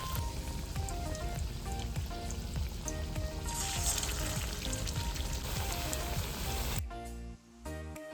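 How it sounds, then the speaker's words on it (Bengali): Oil frying in a pan for Chinese masala rice, a constant crackling sizzle with tonal music underneath, cutting off abruptly near the end. "এই যে মায়ের প্রথম ভাজা হচ্ছে"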